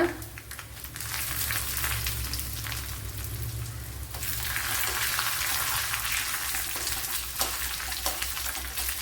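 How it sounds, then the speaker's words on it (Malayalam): Dried red chilies frying in hot oil for a Kerala-style fish curry, a steady soft sizzle and crackle with a brief surge midway, close and fairly quiet, no talking. "ഇനി വറ്റൽമുളക് ഇട്ട് കൊടുക്കുക."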